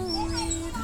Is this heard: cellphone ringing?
no